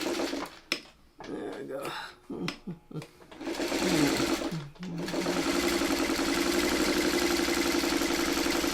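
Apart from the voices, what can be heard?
sewing machine stitching fabric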